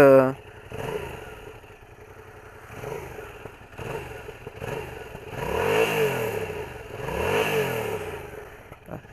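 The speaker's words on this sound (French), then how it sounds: "tu m'as parlé du bruit de la moto" A Yamaha MT-07 Tracer motorcycle idles with a mild stock exhaust note, then revs up twice in rising and falling swells, nearby and moderately loud.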